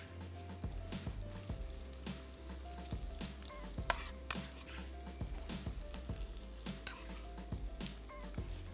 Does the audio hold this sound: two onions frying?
yes